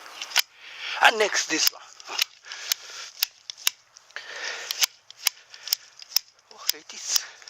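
Garden shears round-trim a plant in a Japanese garden with a run of sharp, irregular snips, close by, while a person speaks briefly between the cuts.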